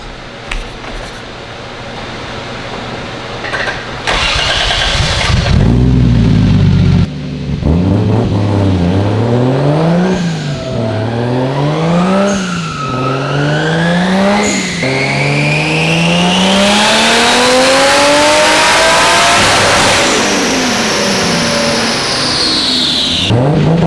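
A turbocharged JZ-engined Nissan S13 coupe revving hard under boost, its engine note climbing and dropping in several quick pulls before one long sustained ramp to high revs, loud and close throughout.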